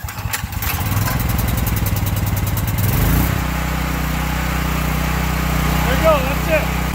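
A homemade generator box's small gasoline engine starts with a quick sputter, catches, and settles into a loud, steady close-up running roar.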